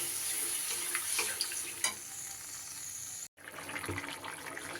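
Boiled bottle gourd and potato go into hot spiced oil for a fish curry, giving a steady bright sizzle that cuts out for an instant and then resumes crackling.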